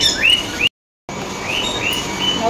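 Small birds chirp in quick, bright, repeated tweets close by, with a brief dropout partway through.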